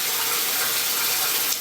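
A kitchen tap runs in a steady, loud, close gush while hands are washed, continuous and unbroken, with no voices.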